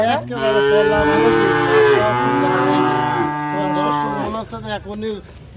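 Holstein Friesian dairy cattle at a farm give a long, loud, close moo followed by a few shorter, wavering lows near the end, with no other sound competing.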